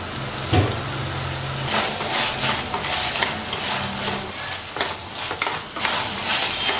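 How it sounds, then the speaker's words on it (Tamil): Onions and tomato sauce sautéing in a pan for bread Manchurian, a continuous sizzle broken by repeated scraping stirs of a spoon against the pan, close and steady, with no voices. "டமாட்டா சாஸ் எல்லாம் போட்டதுக்கப்புறம் நல்லா வதக்கணும்"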